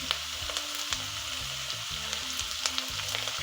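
Green chilies and slit curry leaves frying in oil for an okra pickle, a continuous crackling sizzle with scattered sharp pops and spatters throughout, close and unaccompanied by talk.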